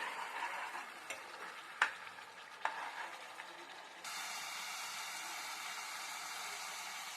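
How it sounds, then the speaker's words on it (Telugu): Masala for a prawn fry sizzles quietly in a pan, a soft steady hiss with a few sharp scrape or tap sounds early on, then the hiss brightens and holds evenly to the end. "ఈ మసాలా అనేది ముందు బాగా వేగిపోవాలి."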